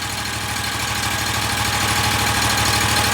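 A lawn mower with a new engine, started with a single pull, runs at a steady idle. The rumble is loud, close and continuous, with a fast rhythmic thrumming and no voices.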